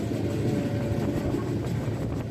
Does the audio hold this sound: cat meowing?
no